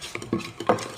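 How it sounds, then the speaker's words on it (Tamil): A spoon stirs sugar in a bowl to dissolve it for homemade slime, giving a few quick scraping, clinking strokes over about a second, close and fairly soft, with no talking. "ஸோ அந்த சுகர் வந்து நல்லா கரையிற அளவுக்கு மிக்ஸ் பண்ணிக்கோங்க"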